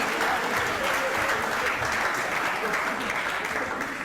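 Studio audience applause during a televised Hindi courtroom-style interview show, loud and sustained from many people clapping steadily without pause.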